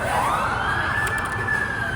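An ambulance siren rises and holds a high wailing tone, loud and close, with no talking.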